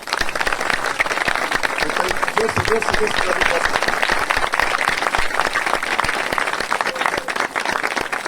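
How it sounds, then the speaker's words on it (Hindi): Church congregation clapping loudly and steadily at a pastor's request during an anointing service, a continuous dense applause with a voice calling out over it. "कोई जोर से ताली बजा सकते हैं?"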